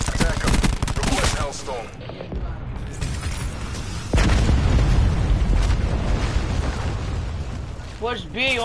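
Bomb explosions in a shooter video game, heavy booming blasts and rumbling debris over game sound effects, with players talking over it.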